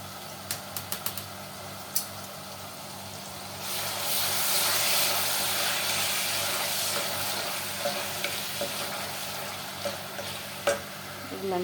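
Garlic and ginger paste drop into hot oil for haleem, starting with a few clicks of a spoon on the pan, then a loud, steady sizzle of frying with occasional stirring taps.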